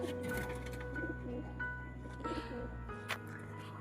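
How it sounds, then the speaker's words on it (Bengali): A pair of pet pigeons cooing close by in repeated soft throaty phrases over a steady low hum, with faint background sounds and no talk. "এই যে বন্ধুরা পায়রা দুটো"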